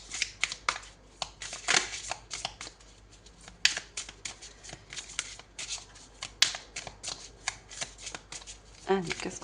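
Tarot cards shuffled by hand during a horoscope card reading, a series of quick crisp riffling bursts and soft slaps that repeat irregularly while someone talks over them.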